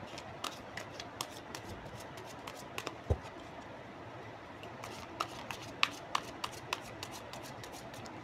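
Playing cards handled and drawn during a card reading, with faint, close, soft flicks and light slaps scattered irregularly over a quiet room hiss.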